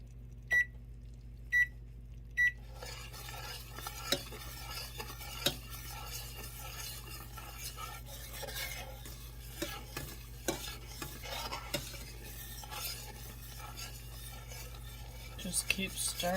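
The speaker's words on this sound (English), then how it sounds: "You do want to be stirring it constantly." A boiling butter and sugar mixture is stirred in a pot while making Christmas crack toffee. The spoon scrapes softly and steadily with faint bubbling and occasional light clicks, quiet and close, and no voices are heard.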